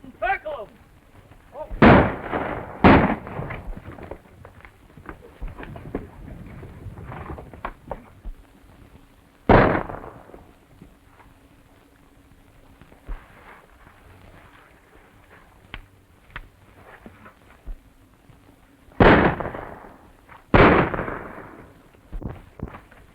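Gunshots ring out during a 1935 western film shootout, five sharp cracks in two pairs and a lone shot spaced across the scene, loud against a noisy background of hoofbeats and commotion with voices calling out.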